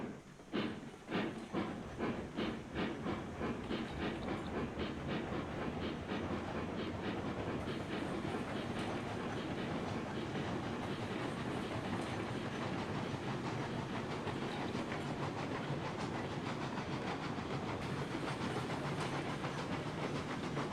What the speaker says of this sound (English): Now that I've got the entire track built, I'm having fun just running the train.